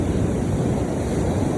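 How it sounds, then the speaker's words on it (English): Ocean waves hitting the shore behind an outdoor group, a loud continuous roar of surf with wind buffeting the microphone, no voices over it. "taking a deep breath in and out with the waves as they hit the shore"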